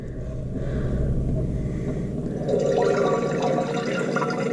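Toilet tank refilling with water through a leaking flush valve seal, a close rushing hiss and trickle that swells louder partway through, with no talk.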